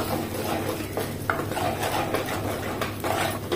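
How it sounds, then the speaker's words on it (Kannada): Ground masala fries in a hot tempering over a medium flame while a spoon stirs and scrapes the pan. The scraping and faint sizzle are close and continuous, with no talking. "ಒಮ್ಮೆ ಒಗ್ಗರಣೆಯಲ್ಲಿ ಈ ಮಸಾಲೆಯನ್ನೊಮ್ಮೆ"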